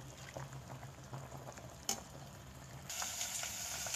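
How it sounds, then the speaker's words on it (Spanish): A medium onion and garlic cloves frying in a pot, giving a steady soft sizzle with faint crackles and a brief clatter partway, growing a bit brighter toward the end. "aquí ya estoy sofritando la cebolla mediana con un diente grande o dos dientecitos de ajo"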